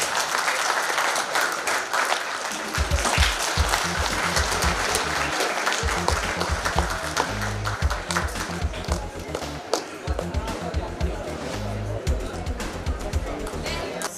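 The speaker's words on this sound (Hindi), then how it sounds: "तालियां." An audience gives steady, continuous applause at a prize distribution for a state school chess championship, with a rhythmic thumping running beneath the clapping throughout.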